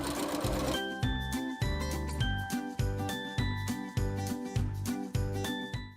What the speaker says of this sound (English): Then I'm gonna sew a decorative stitch 1/2 inch from this seam.